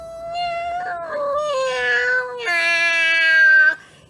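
A human voice imitates a cat singing terribly, drawn-out wavering meow-like wails that slide up and down in pitch over a few seconds, loud and alone.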